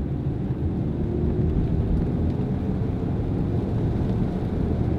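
A car with a 4-speed electronically controlled automatic transmission cruises at about 40 mph, giving a steady, muffled road and engine rumble with no distinct gear shifts standing out; no talking.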